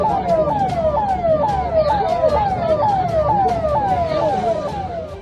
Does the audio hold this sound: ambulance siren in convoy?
yes